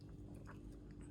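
Crunching bites of a homemade garlic butter cookie with parmesan and cheddar cheese, chewed close up and quiet, with soft repeated crunches over a low steady hum.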